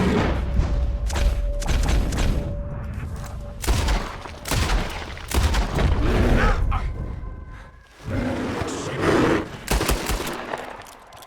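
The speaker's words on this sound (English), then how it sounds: "Arthur! Shoot that thing, please!" Gunshots in Red Dead Redemption 2 during a forest encounter, loud bursts of rapid firing and single booming shots in clusters separated by brief lulls, with a voice calling out between them.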